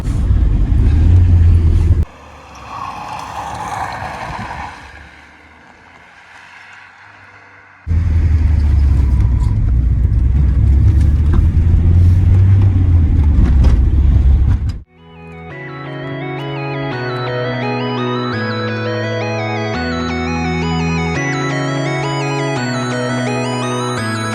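A 1997 Volkswagen Golf 3 with a 1.9 TD turbodiesel engine on the move, giving a steady low engine rumble and road noise that breaks off briefly before music takes over in the second half.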